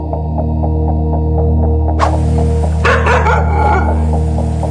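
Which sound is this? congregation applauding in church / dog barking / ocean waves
dog barking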